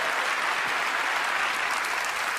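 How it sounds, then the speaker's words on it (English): A television magic show's studio audience applauds a volunteer, a dense, even wash of clapping that stays loud and constant for a couple of seconds. "Give him a round of applause for volunteering."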